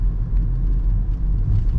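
Car driving through downtown Raleigh, a steady close low rumble of engine and road noise from inside the vehicle, no talking.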